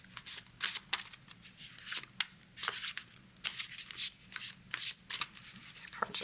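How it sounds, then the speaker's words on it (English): Tarot cards being shuffled by hand in a quick, repeated riffle, with crisp bursts of card flutter coming in uneven pulses roughly every half second, close and fairly loud, with no talking. "So we're going to do a quick shuffle."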